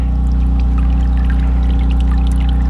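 Engine oil drains from a 2007 Ford Focus into a catch pan, a steady, continuous pouring stream with a low hum beneath it and no talking.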